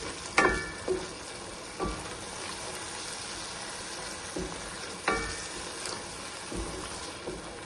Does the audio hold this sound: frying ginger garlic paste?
yes